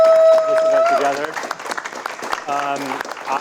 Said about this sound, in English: I'm going to seek another gratuitous round of applause for Lauren